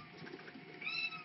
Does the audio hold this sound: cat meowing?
yes